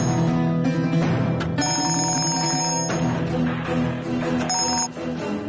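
A telephone rings during a phone call, its bright repeated bell tones sounding loud and close over a steady bed of background music, with no one speaking.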